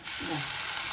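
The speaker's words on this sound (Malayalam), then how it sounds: "തിളച്ച വെള്ളമാണ് ഒഴിക്കുന്നത്." A steady, loud sizzling hiss fills the moment as boiling water is poured into a hot pan of chicken curry, bubbling and steaming without pause.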